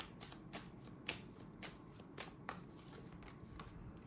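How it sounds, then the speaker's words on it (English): Tarot cards from a Rebel deck are shuffled close up, quick papery riffles and soft taps recurring in a loose rhythm over a quiet room. "let's get some cards here from the Rebel deck for you."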